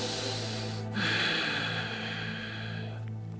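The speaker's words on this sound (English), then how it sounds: "And breathing." During a vinyasa yoga flow, a single slow, audible breath is drawn in and released through the nose, soft and close, with no talking over it.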